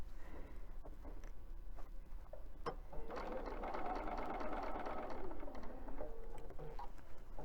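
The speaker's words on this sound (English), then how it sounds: "we are actually sewing a 1/4 inch seam" Sewing machine stitching a quarter inch seam on a fabric basket, a quiet start with a few clicks, then a steady rapid mechanical whir for about three seconds before slowing and stopping.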